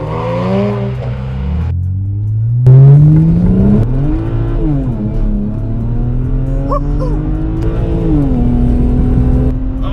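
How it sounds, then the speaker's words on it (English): Tuned, modified twin-turbo BMW 335i with 430 hp and rear-wheel drive accelerating hard, engine note climbing through several gear changes with loud whistling turbos, heard close and continuous from inside the car without talk. "You hear the turbos whistle and it sounds nice."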